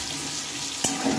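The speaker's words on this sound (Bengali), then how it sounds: "লবণ হলুদটা দিয়ে আবারও আমি কিছুক্ষণ ভেজে নেব।" Pointed gourd frying in oil with turmeric and salt, a steady soft sizzle running throughout with one brief sharper stir or clatter near the end.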